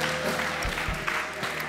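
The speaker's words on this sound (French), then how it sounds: "Come on, let's give Jesus some shout of praise." A church congregation applauds and shouts praise together, a dense wash of clapping and crowd noise with a few voices rising through it.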